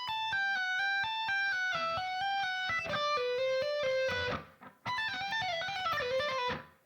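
Electric guitar legato lick of rapid hammer-ons and pull-offs, quick flowing runs of notes descending in fragments with a brief break before the phrase resumes, clear and alone.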